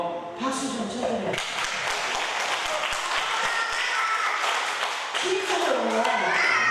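Applause from a church audience during a sermon at a prayer retreat, clapping swelling up after a spoken line and holding steady, with voices rising again near the end.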